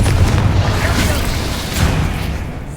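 A Confringo spell explosion in Hogwarts Legacy lands as a loud, heavy boom with a rumbling low tail, then a second swell of blast noise in a busy game fight.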